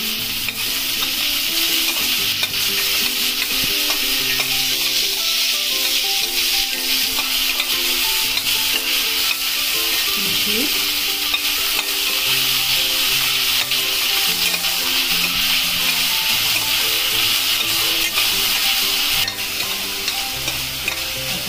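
Garlic and onion sautéing in oil for fodnicha masale bhat, a dense, even sizzle that runs the whole time with soft stirring scrapes now and then, close and steady, no voices.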